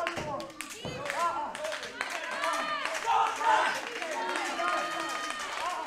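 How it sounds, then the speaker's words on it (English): A wrestling crowd at an independent Turkey Bowl show shouts and chants in rhythmic rallying bursts with scattered clapping, loud and close, while a commentator talks over the noise. "This crowd trying to rally behind Sean Campbell, give him the energy he needs to get back up to his feet"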